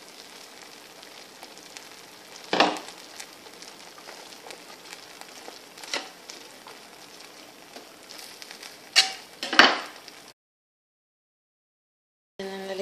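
Chopped, washed potatoes frying in a pan give a soft, steady sizzle, with a few louder clattering stirs or additions mid-way, close by, ending in a short silence.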